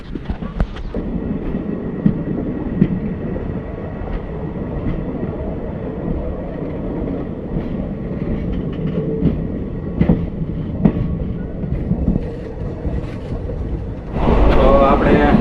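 Passenger train running between Savarkundla and Bhavnagar while crossing another train, a continuous loud rumble and rattle from onboard with rhythmic clatter, rising at the end as the other train passes close.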